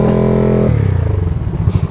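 A close Suzuki Raider motorcycle engine drones loudly, then drops to a rough, sputtering idle with a rapid chugging rhythm.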